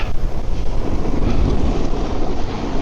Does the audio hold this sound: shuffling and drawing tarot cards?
no